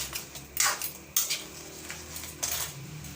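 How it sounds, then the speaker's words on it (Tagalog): A metal ladle scrapes and clinks against a boiling cooking pot of ginataang kalabasa with crab, with a few sharp knocks over a low, steady background hum. "Haluin natin ang sandok para mahalo natin maayos."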